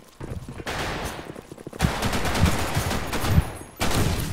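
Gunfire in a shooter video game crackles in dense, rapid bursts of shots, loud and close, with short pauses between volleys.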